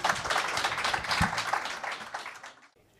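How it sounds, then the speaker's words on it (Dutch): An audience applauds at a municipal election debate in Almelo, a dense burst of clapping close by that holds for about two and a half seconds and then stops abruptly. "Applaus."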